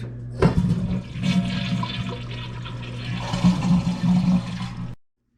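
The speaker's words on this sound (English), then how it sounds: "I'm going to start by shutting off the water to the toilet and giving it a flush" Old toilet being flushed before removal for a Kohler Elmbrook install, a loud close rush of water swirling and draining for about five seconds, then cutting off abruptly.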